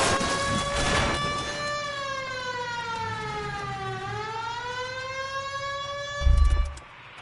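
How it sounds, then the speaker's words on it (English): Police siren in the video game L.A. Noire wails loudly and alone, its pitch falling and then climbing again in one long sweep, ending with a short low thump. "I don't hear a siren, Phelps."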